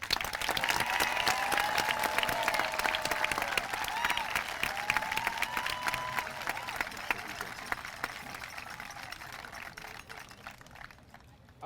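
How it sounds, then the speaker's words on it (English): An audience at a school moving-on ceremony applauds, dense clapping from a crowd starting strong and gradually thinning and fading over about eleven seconds, with faint voices beneath. "Can we give a round of applause to Miss Irving's homeroom?"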